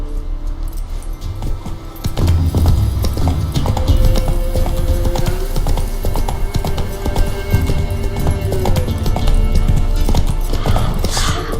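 Horse hooves clip-clop steadily at a gallop in The Witcher 3 video game, loud and close with a rapid, continuous rhythm after a brief quieter start, and a faint neigh near the end.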